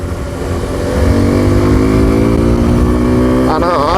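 A Suzuki V-Strom 250 motorcycle engine drones loudly and steadily while riding, its pitch climbing gradually as revs build, with a voice talking over the engine noise.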